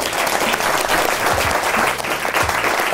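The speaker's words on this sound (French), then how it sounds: "Ok, on les applaudit." A small group gives a short burst of steady hand clapping in an indoor French-language entertainment setting, close and loud for the whole few seconds.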